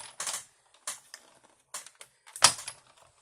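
Paper card trimmed for watercolor note cards fed through a die cut machine, giving a series of short clicks and mechanical clatters spaced over a few seconds, with one sharper crunchy knock near the end.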